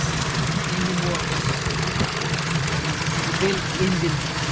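A rebuilt BMW E46 3 Series engine idles outdoors in snow, a steady mid-pitched rumble with a faint knocking pulse, close and continuous, with a voice talking over it.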